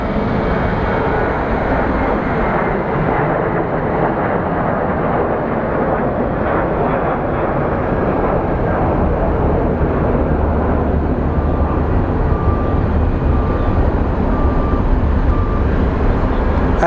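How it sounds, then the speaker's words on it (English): Southwest airliner departing Sky Harbor International Airport in Phoenix, a sustained broadband jet roar heard from the ground, steady and fairly loud for the whole stretch, with no voice over it. "here we have a Southwest that is departing as well"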